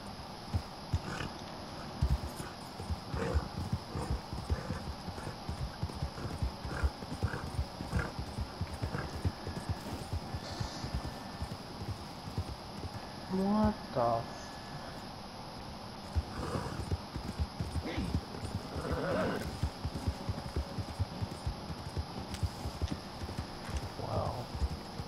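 Horses' hooves clip-clop steadily through Red Dead Redemption 2 game audio, with occasional whinnies and a soft snort, moderately close over faint ambient background and a passing voice.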